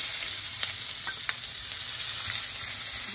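Onion and green chillies sauté in hot oil with cloves, cardamom and spices for fish biryani, a close continuous bright sizzle with a few light crackles and stirring taps.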